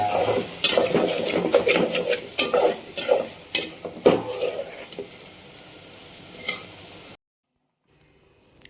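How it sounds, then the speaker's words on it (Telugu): Masala spices for a country-chicken curry sizzle steadily in a pan while a spoon scrapes and stirs in irregular bursts, close and fairly loud, then cutting off to near silence at the end. "మసాలా కూడా వేగిపోయింది."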